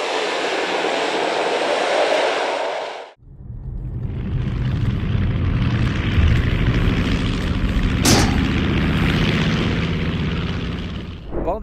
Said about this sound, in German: Die Maschine musste wegen eines Problems im Triebwerk auf der Fahrbahn notlanden.